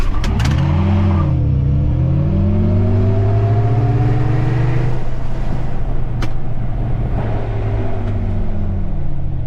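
A 2024 GMC Hummer EV SUV launches hard in WTF mode, filling the cabin with a loud, rising electric drive whine and road roar that swells steadily as it accelerates.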